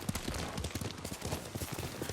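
A horse's hooves clip-clop at a steady riding rhythm in Ghost of Tsushima, close and continuous, with faint gunfire-like thuds in the game mix.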